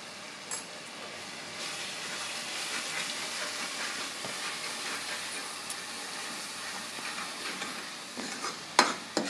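Masala with red chili powder, turmeric and black masala frying in oil for a Marathi stuffed brinjal dish, a steady close sizzle with soft stirring scrapes and a couple of sharper clinks near the end.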